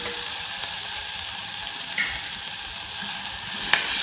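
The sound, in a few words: mixing green chili paste and spices in a pan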